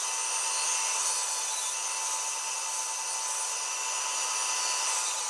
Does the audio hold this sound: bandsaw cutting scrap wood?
yes